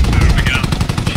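A Leopard tank in the game Squad fires a rapid, dense burst of gunshots that runs continuously and loud for about a second.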